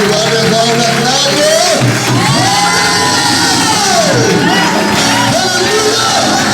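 A church congregation cheers and shouts in loud, sustained acclamation of the Lord, with whoops, children's yells and singing voices blending into a dense, continuous crowd roar.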